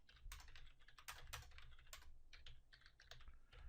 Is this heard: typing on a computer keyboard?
yes